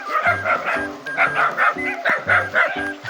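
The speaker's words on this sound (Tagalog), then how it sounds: "madaming aso sa pinagdaanan namin" Several dogs bark repeatedly in quick, overlapping bursts, fairly close and loud, with a few higher yips mixed in.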